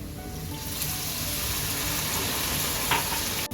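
Cooked masala in oil for a sweet and sour lemon and dates pickle sizzles steadily as boiling water is poured in, a continuous moderate hiss with a slight splash near the end.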